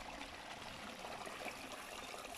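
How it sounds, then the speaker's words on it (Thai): Water from a waterfall rushes and trickles as a steady, even wash of noise with no pauses and no voices over it. "น้ำตก"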